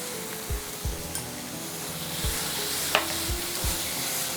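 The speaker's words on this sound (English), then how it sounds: "So we are going to fry it." Potatoes fry in a hot pan with a steady, close sizzle, broken by several short stirring scrapes and knocks from a utensil.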